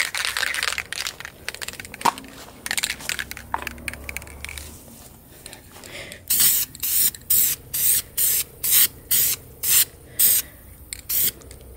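A spray can lays a light dusting of John Deere green paint onto a scrap wood Christmas decoration, heard as a run of short hissing bursts in a steady rhythm, close by, after some rubbing and handling noise.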